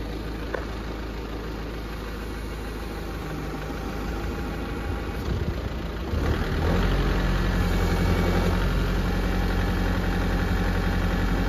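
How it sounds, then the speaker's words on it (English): A tractor engine runs steadily with a low, rumbling idle, then revs up louder and heavier partway through, close by. "I sure do love this tractor"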